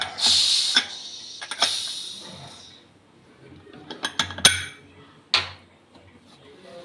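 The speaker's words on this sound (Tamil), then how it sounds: "குக்கரில் வந்து ஸ்டீம் எல்லாம் ஃபுல்லாக இறங்கிருச்சு இப்போ வந்து ஓப்பன் பண்ணிடலாம்" A pressure cooker lid is handled and opened once its steam has been let out. Metallic clanks and clicks come in brief, close bursts after an early hiss-like rush, with quiet gaps between them.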